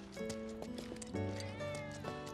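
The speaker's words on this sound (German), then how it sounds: "Ich höre eine Katze." A cat meows a few times in Final Fantasy 7 Remake, tonal and drawn out, over quiet background sound.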